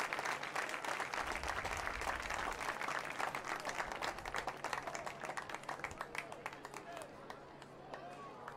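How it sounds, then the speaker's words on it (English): Crowd applause rises from the stands at a high school football game between Wayne Valley and Northern Highlands, a steady dense clapping over several seconds heard from a distance amid general crowd noise. "And a big round of applause from the audience."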